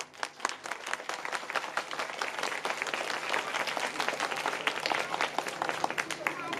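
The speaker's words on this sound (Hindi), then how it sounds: "बहुत सारी इन बच्चों के लिए तालियां होनी चाहिए।" An audience at a school prize ceremony gives children a long burst of dense, steady applause with many hands clapping together, fairly close.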